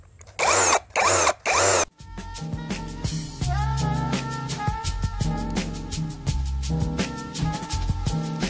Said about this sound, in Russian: этот шуруповерт обладает ударом